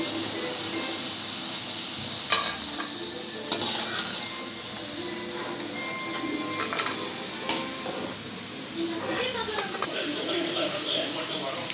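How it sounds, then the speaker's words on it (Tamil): Pieces of elephant yam fry in hot oil for a Tamil-style yam fry, giving a steady close sizzle with occasional stirring clinks and scrapes throughout, and a voice speaks over it. "இப்போ நல்லா நம்ம பொன்னிறமாக வறுத்து எடுத்துக்கலாம்."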